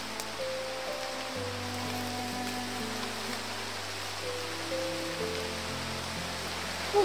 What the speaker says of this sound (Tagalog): umulan na naman tol